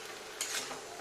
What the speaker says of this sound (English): Maybe let it simmer for 5 or 10 minutes. But keep stirring so that it doesn't get burned on the bottom.